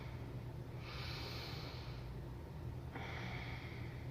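Slow yoga breaths during a power vinyasa practice, two long airy inhales or exhales heard close to the microphone over a steady background hiss, with no voice.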